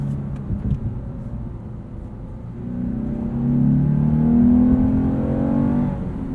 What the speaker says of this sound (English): It goes from a more digital and almost sounds like it's piped in through a speaker to actual V6 engine sounds.